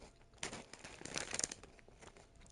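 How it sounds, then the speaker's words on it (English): Loud crinkling and crunching from a snack being handled and chewed close by, in irregular bursts that peak midway through, with no talking. "So if you can hear me chewing very loudly, if it is too loud, just let me know."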